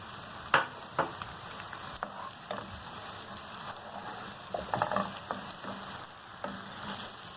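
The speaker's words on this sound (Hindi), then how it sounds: "अब लहसुन अदरक भी हमारा भुन चुका है" Garlic ginger paste frying in a pan for a mutton liver masala, a continuous soft sizzle with occasional sharper clinks and stirring scrapes, close and fairly quiet, no talking.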